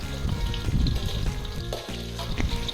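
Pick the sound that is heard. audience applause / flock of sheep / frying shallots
frying shallots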